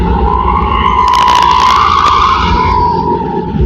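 A garbage truck drives past on a road near Bekasi, heard from a moving motorcycle: a loud, steady engine roar with a whining tone that swells and peaks as it passes, then eases off, with strong wind rumble underneath.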